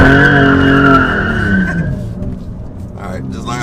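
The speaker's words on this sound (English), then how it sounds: "Alright, just learn how to do a standing burnout on camera." A BMW M2 holds a standing burnout, its tires skidding and squealing loudly with a strained, revving engine that tapers off after a couple of seconds, leaving a rougher residual rumble.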